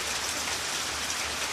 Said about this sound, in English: Raining in Jamaica.